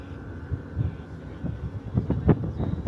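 Wind gusts buffet the microphone at sunset in the Dubai desert, producing uneven low rumbling bursts that swell and fade irregularly, growing stronger toward the end.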